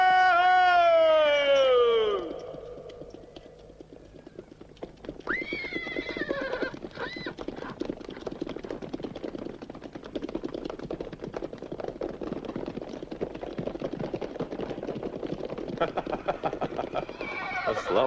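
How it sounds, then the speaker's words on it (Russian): A war horse gives a loud, high whinny that falls away at the start, then hooves clip-clop in a steady rhythm for the rest, with a second brief neigh and a final one near the end. "О, славный мой конь, мне понятен твой пыл."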